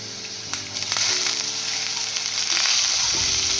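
Boiled sweet corn drops into a pan of golden-brown fried onions and sizzles steadily up close, with stirring scrapes over the frying hiss.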